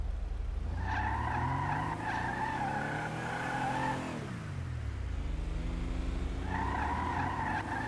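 A Vapid minivan with all-wheel drive sliding in a Rockstar driving game: a low engine drone under repeated tire squeals, one long screech fading out, then another starting near the end.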